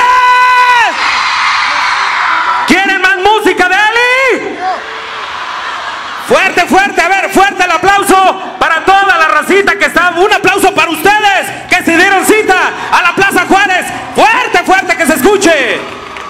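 Loud, high-pitched shouting and whooping from a group of women, in repeated bursts with brief pauses, close and energetic.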